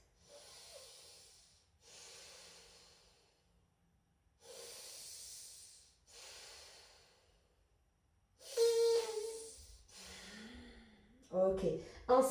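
Slow, deep full breaths during a vinyasa yoga session, with long airy inhales and exhales in a steady rhythm, close and soft, followed by a few louder breaths and a voice near the end.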